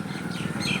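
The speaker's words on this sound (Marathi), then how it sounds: "पहाटेचा पक्ष्यांचा किलबिलाट" At dawn in a village in the Satpuda hills of Khandesh, Maharashtra, faint, brief bird chirps sound over a steady low background hum, with no voices.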